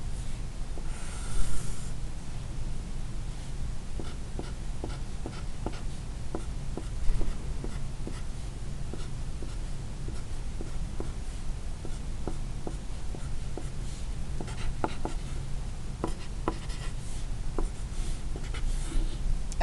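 A pencil scratches across graph paper while plotting a graph, making steady small strokes and ticks at close range, with occasional louder scrapes and no talking.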